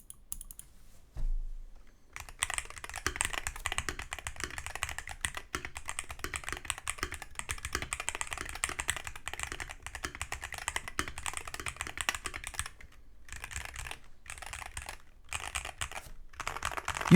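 Steady fast typing on a Freebird 60 keyboard with TTC magnetic switches and double-shot PBT keycaps: continuous close clacking keystrokes with brief pauses near the start and end, no voices.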